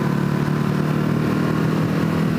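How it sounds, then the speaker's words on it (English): A Ducati HyperMotard 950 SP V-twin, 2020 model, pulls from low revs with a loud, close, steady engine rumble throughout. "when you come on the gas from low revs, sure, there's a bit of a rumble"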